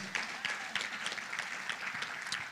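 Church congregation clapping hands in praise at a conference service, a steady rhythmic run of many hands striking together at a moderate tempo, fairly faint and distant, with no talk over it.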